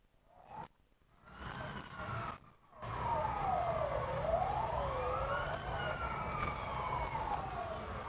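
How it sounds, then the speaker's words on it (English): A wailing emergency siren rises and falls in long sweeps, heard at a moderate distance over a steady background rumble. "Sirens."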